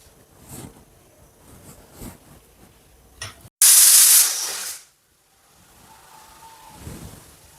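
A pressure cooker cooking dal lets out a loud, steady hiss of steam for about a second, cutting off sharply, with quiet kitchen sounds before and after.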